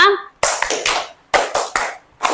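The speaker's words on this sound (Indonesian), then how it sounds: "Tepuk 5 2 kali kanan, 2 kali kiri" Hand claps in a rhythmic counting pattern, the fifth sequence of a classroom clapping routine, sounding as separate sharp bursts in short groups, close and loud, with a brief voice at the start.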